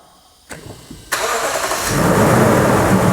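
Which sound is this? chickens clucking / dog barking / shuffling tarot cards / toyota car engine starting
toyota car engine starting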